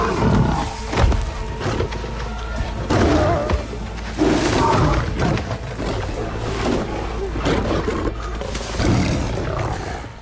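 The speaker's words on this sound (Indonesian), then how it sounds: "singa jahanam itu akhirnya mati di tangan singa lokal penguasa area ini" Lions roar and snarl while fighting in a film scene from Beast, the growls loud and close in repeated bursts, mixed with thuds and dramatic underscore throughout.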